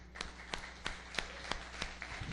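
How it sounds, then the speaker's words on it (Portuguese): Congregation at a Portuguese-language church service claps in a steady rhythm, sharp evenly spaced beats about every third of a second over a background of scattered clapping, fairly quiet and somewhat distant. "Salvo de palmas ao Senhor."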